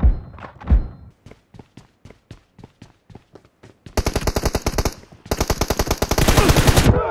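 Gunfire in a mobile shooter game, starting with a few heavy thuds, then a slow run of evenly spaced single shots, then two dense bursts of loud, rapid automatic fire close up.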